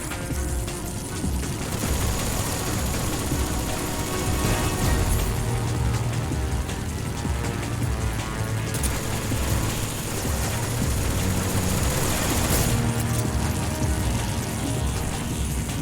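Gunfire fills a Metal Gear Solid 3 battle, with rapid automatic bursts and rattling fusillades layered over a dense mechanical rumble for the whole stretch, loud and continuous, and a few sharper cracks standing out.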